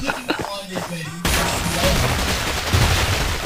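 Gunfire in the video game Garry's Mod erupts after a moment of talk, becoming a dense, loud, continuous burst of rapid shots that runs to the end.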